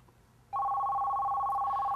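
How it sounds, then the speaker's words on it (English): An office PBX telephone line starts ringing at an extension after a brief quiet moment, a steady electronic two-tone ring that continues loud and unbroken to the end. "Now the call is ringing at the third extension."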